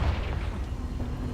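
The Confringo spell detonates in the Hogwarts Legacy video game with a dense, rumbling explosive blast that sustains for the whole moment, loud and close, with no voices over it.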